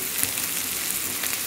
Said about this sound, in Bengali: পেঁয়াজটা এবার একটু লাল করে ভেজে নেব।